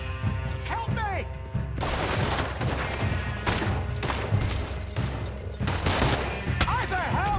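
Dense video-game gunfire crackles in rapid bursts and volleys throughout, loud and close, with crashes mixed in, while voices shout over the shooting.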